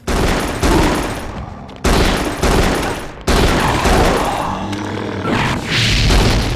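A weapon fires in the game Frater in loud, close bursts of rapid shots, several separate volleys broken by brief pauses, with a deep booming body.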